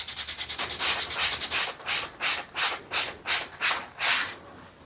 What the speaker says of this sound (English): just taking that foamy, flexible 600 grit and just kind of giving this a new finish